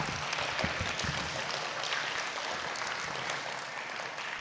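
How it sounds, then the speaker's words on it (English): Steady, distant applause from a graduation audience for kindergarten and eighth-grade teachers at a Christian school, a continuous wash of clapping with no one speaking over it. "Can we give them a big round of applause?"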